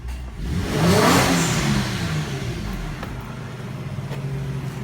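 Infiniti G35 coupe engine running, rising in one strong rev that peaks near one second and falls back to a steady idle, close and loud, no talking.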